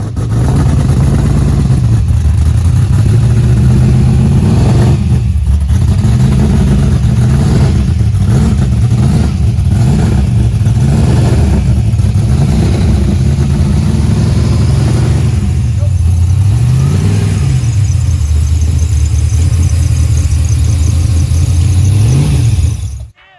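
An LS-swapped Chevrolet Caprice engine revs repeatedly in loud, rising and falling blips that keep going for about twenty seconds, close by and dominating throughout.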